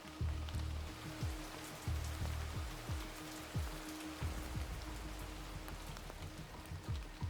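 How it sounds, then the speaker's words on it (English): Steady rain drums on an aluminum truck roof at night, a dense constant patter with a continuous low rumble underneath and no voices. "It's raining tonight. Not hard, but steady enough that every drop tapping against the aluminum roof sounds"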